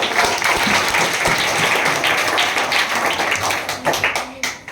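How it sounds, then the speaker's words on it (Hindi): A classroom or school gathering claps loudly for a student, a dense burst of hands that swells and holds, then thins into scattered claps near the end. "एक मिनट के लिए जोरदार ताली होनी चाहिए"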